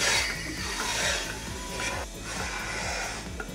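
Milking machine suction pump starting up in a dairy parlour, a steady rasping, pulsing mechanical hiss with a regular rhythmic low thump, close and continuous throughout.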